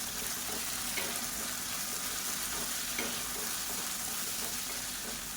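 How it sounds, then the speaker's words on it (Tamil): Drumstick pieces sautéing in oil for a Tamil kuzhambu, a steady close sizzle of frying with faint stirring scrapes throughout, no voices. "முருங்கைக்காய் எடுத்திருக்கேன் அதை சேர்த்துக்கலாம் சேர்த்துட்டு இந்த எண்ணெயிலே நல்லா வதக்கி விட்டுக்கலாம்"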